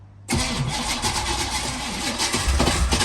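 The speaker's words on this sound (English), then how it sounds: "All right, give it a crank, see if anything happens." A 1980 Chevy Camaro engine cranks continuously without catching, with a loud, steady mechanical whirring that holds for about three seconds.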